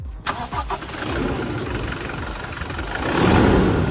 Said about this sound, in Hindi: ये गाड़ी आपके पोते भी चलाएगा और तब भी ऐसी आवाज करते हुए स्टार्ट हो जाएगी